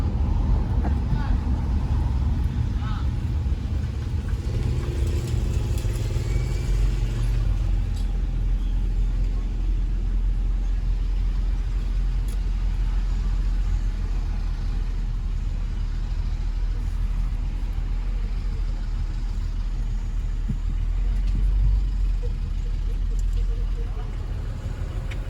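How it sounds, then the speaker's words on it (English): Road traffic of cars and buses in Belize rumbles continuously with low engine drone and passing vehicles, a steady loud wash with some background voices mixed in. "It's the traffic hour."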